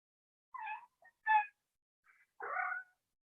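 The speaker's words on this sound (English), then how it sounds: "My kitty always wants to come and be a part of yoga practice. I don't know if you guys can hear her." A house cat meows several times during a quiet indoor yoga session, with short separate calls and a longer, louder final meow, close by against silence.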